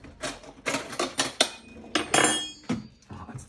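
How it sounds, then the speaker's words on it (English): A large spoon clatters and scrapes against a mixing bowl while sourdough is mixed, giving a string of loud, close metallic clanks in irregular bursts with short pauses between. "Oh, that's the biggest spoon we have, Ron."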